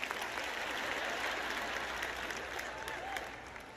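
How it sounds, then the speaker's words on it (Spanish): A church congregation applauds at a sermon, a dense wash of steady clapping that holds strong and fades slightly toward the end. "¿Dónde están los aplausos por esto?"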